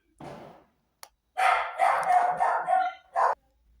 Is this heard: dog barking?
yes